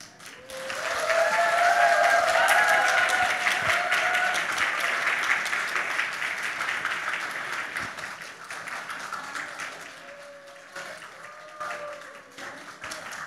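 Applause from a church congregation celebrating young Sunday-school children receiving certificates at a Christmas service of a Korean church in Chile: dense, sustained clapping that swells early, then slowly thins and fades, with faint tonal sounds drifting over it.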